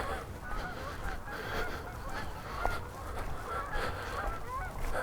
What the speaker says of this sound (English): The geese are heading south.